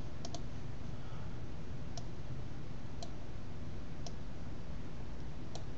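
Computer keyboard being typed on with occasional mouse clicks, a few sharp isolated clicks spaced about a second apart over a constant hiss, no voices.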